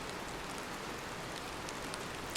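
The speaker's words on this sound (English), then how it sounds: "It's really raining outside." Rain falling outside, a steady dense hiss of drops that stays even and faint throughout, with no voices.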